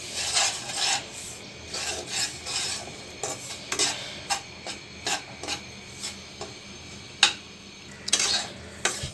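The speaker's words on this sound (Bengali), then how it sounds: "তেল আর ঘিয়ের সঙ্গে ভালো করে আমি সুজিটাকে ভেজে নিয়েছি।" Semolina fries in a mix of oil and ghee while a spoon scrapes and rasps against the pan in repeated, uneven strokes, close and fairly loud.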